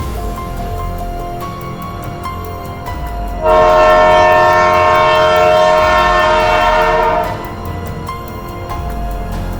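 A loud train horn blares for several seconds over the steady rumble of a passing train, then drops back to rolling rail noise.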